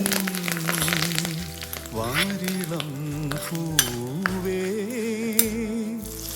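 Spoon scraping and clinking in a pan as tempering with curry leaves, cinnamon, cardamom and cashews is stirred into an elephant yam stir-fry, with someone talking over the steady clatter.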